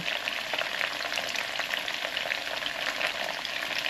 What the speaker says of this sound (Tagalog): capsicum, caramelize ko muna bago ilagay yung bigas